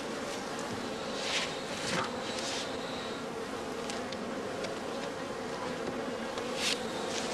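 Honey bees buzzing around heather skep hives at a heathland apiary, a steady swarm drone with individual bees passing close to the microphone now and then, faint and with no talking.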